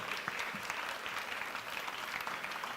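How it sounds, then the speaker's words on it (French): Applause from a conference audience greets a guest joining the host on stage at a tech event's opening ceremony, a steady dense patter of many hands held at an even level throughout. "Vous pouvez l'applaudir."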